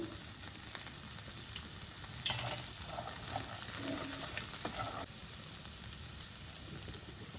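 Chickpeas frying in a pan after coriander goes in, a steady close sizzle that runs throughout with a few brief stirring scrapes.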